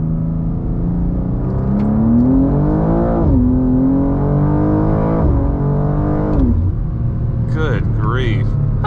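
A BMW M2 G87 accelerates hard in second gear, its engine note climbing loudly in pitch through several pulls, with a brief voice near the end.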